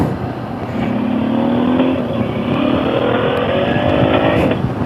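A car accelerates hard on a road, its engine note climbing steadily in pitch through the gears, loud and close with a rising whine over road rumble.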